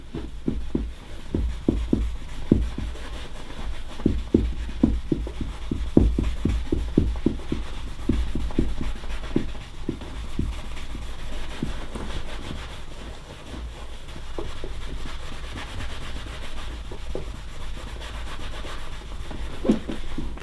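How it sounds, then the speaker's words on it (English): Rhythmic rubbing strokes from a shoe shine glove buffing a military-style shoe or boot, a steady brisk scrubbing pattern at close range with short pauses, no voices. "So we use this one for buffing."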